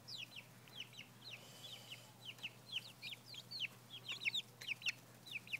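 Backyard chickens, among them a white hen, cluck in quick, chattering bursts close by, the calls coming in uneven clusters over a low steady hum.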